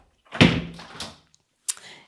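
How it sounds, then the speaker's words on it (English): A door leading out to a courtyard in a guest room in Vila Real de Santo António, Portugal, is opened with a fairly loud thump and rattle, followed by a shorter knock a moment later. "we have a door that leads out to the courtyard. So you can open that up."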